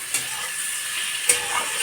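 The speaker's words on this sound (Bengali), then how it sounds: "মাছটা ভাজা হচ্ছে" Prawns for a village-style coconut milk prawn curry fry in a pan with a continuous bright sizzle and hiss, broken by a couple of brief clinks or stirring taps.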